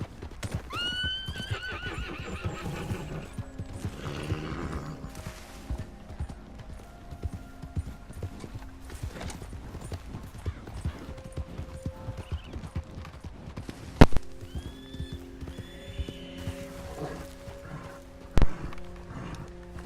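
Horse hooves clopping and a horse neighing in the video game Red Dead Redemption 2, with a loud whinny near the start, steady hoofbeats throughout, and further snorts or whinnies later over a game soundscape.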